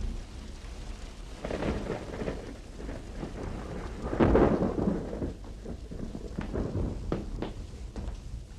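A thunderstorm with heavy rain pours steadily, with rolling thunder rumbling throughout and a louder swell midway, no voices present.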